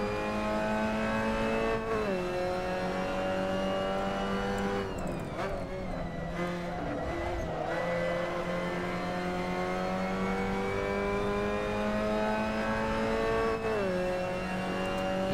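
A Mazda MX-5 Cup car in a sim racing game, engine droning at high revs with sharp pitch drops on downshifts and rough blips in between, loud and continuous, with a voice talking over parts of it.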